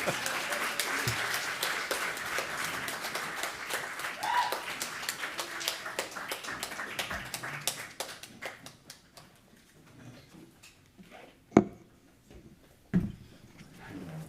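An audience applauds a small business award winner at an awards ceremony, dense clapping that holds steady for several seconds, then thins out and fades to scattered claps and near silence.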